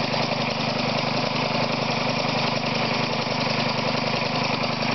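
An experimental air compressor, stage 4 run at 24 psi, drones steadily and loudly throughout, with a constant engine-like hum and rapid, even pulsing.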